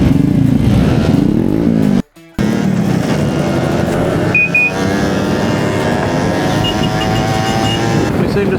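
Small Honda CRM50 two-stroke motorcycle engine running steadily and loud, with a brief dropout before the drone resumes and faint voices underneath, during a small-bike group ride event.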